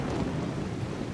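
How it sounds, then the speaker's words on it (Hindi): Heavy rain pouring steadily with a low thunder rumble underneath, a dense, continuous storm wash with no voices. "कपड़े गीले हो गए हैं और बारिश भी बहुत है"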